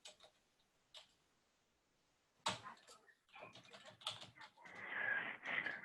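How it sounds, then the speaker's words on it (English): Keys clatter on a computer keyboard in a quiet room, a few isolated taps at first, then a denser burst of quick keystrokes in the last few seconds. "Let me say this while he's typing."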